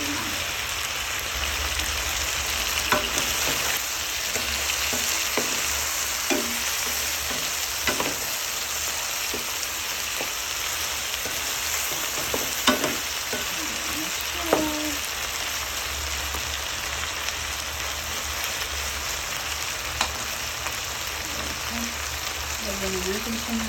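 Lemongrass frying in oil in a pan for chicken curry gives off a steady, close sizzle that lasts throughout, broken by occasional clicks and scrapes of stirring.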